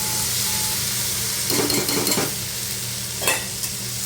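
Washed cluster beans drop into a kadhai of hot oil and fried spices: a steady sizzle swells for a moment, then a spoon scrapes and stirs in short strokes, close up and with no talking.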